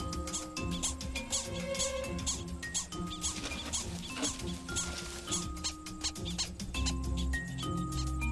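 Prairie dogs in a colony give their distinctive coyote alarm call, a continuous stream of sharp, high repeated chirps and squeaks, with another caller answering from farther across the colony.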